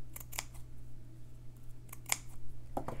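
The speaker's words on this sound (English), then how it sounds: "So I'll just cut my slits here." Scissors snipping slits into textured fabric, a few sharp separate clicks spaced unevenly over a low steady hum in a quiet room.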